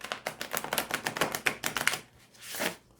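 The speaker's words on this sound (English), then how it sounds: "let me try doing a quick shuffle of these" A Besançon tarot card deck is shuffled at close range, giving a quick run of crisp riffling flicks that ends in a brief softer sweep as the cards settle.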